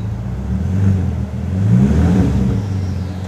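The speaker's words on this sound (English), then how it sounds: "Could you give it a bit of a rev up?" A car engine revs up and settles again, a steady mid-pitched note that rises and falls over a few seconds, close by and with no talk over it.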